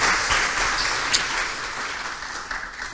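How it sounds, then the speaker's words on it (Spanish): A Demo Day audience claps for the CrossHub team in a brief burst of applause that starts strong and gradually tapers off. "les pido un fuerte aplauso para el equipo de CrossHub"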